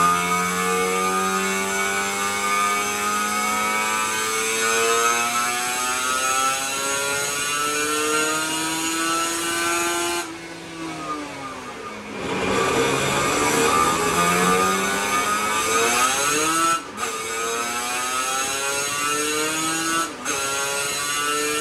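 A Yamaha TZR250 motorcycle engine revs on a dyno during a power run, a loud, close two-stroke wail climbing steadily in pitch, then dropping off and rising again with brief breaks near the end.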